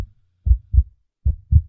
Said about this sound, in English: For a heartbeat.